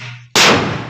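A firecracker bomb bursts at an outdoor birthday celebration with a single sharp, very loud bang, preceded by a quiet moment and trailing off in a short echoing decay.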